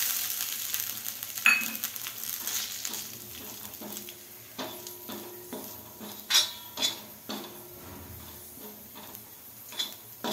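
Dry coconut frying with roasted chillies in a pan for khara chicken, a soft sizzle under scattered clinks and scrapes of a spoon stirring against the pan, with no voices.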